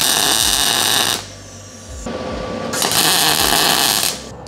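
Welding tacks on a steel engine oil pan baffle during an E46 engine rebuild: two loud, sustained buzzing, crackling arc bursts close by, separated by a short quieter stretch.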